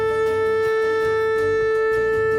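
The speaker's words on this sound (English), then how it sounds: "This leads to the final blast of the shofar, the tekiah gedola." Shofar, a ram's horn, sounding the tekiah gedola final blast: one long, unbroken, steady brassy tone that holds through the whole stretch, moderately loud with some low rumble beneath.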